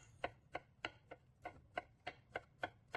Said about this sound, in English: We smash some garlic pieces, slice some ginger, spring onion, as well as coriander.